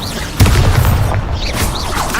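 Incendio fire spell cast in the video game Hogwarts Legacy, a loud booming burst followed by roaring whooshing effects and sweeping tones that fill the short stretch.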